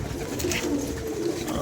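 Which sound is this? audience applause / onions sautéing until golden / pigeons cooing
pigeons cooing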